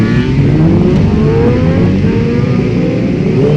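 Superbike motorcycles race at the Carole circuit during a round of the French Superbike championship, their engines loud and close, rising and falling in overlapping rev sweeps with no break in the roar.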